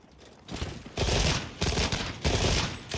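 Light Bowgun fire in the video game Monster Hunter Wilds, heard as dense bursts of rapid, loud shots in a quick fusillade that breaks off briefly and resumes, with no talking.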